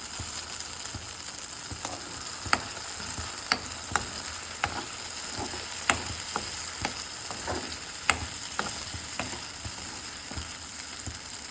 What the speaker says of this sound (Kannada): ಕರಿಬೇವು ಇಟ್ಟಿದ್ನಲ್ಲ ಅದನ್ನು ಹಾಕಿ ಇದು ಸ್ವಲ್ಪ ಹಸಿ ಸ್ಮೆಲ್ ಹೋಗೋವರೆಗೂ ಫ್ರೈ ಮಾಡ್ಕೋಬೇಕು